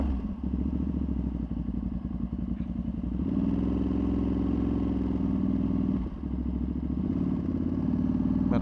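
A tuned Ducati Panigale V2 motorcycle rides on a city street, its engine a loud, steady rumble held close throughout, with short dips and pickups in revs as the throttle changes.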